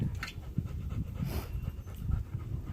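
A Rottweiler pants at a dog park, quick rhythmic breaths close by and fairly soft, with a brief whimper.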